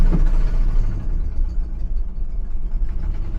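A 1991 Ford F-150 engine, revived after sitting eight years, accelerates with the pedal floored, giving a rough, steady low rumble at moderate volume with no talking.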